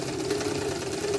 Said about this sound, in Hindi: अब हम स्टार्ट करेंगे हमारा क्रोचेड एरिया का सिलाई काम।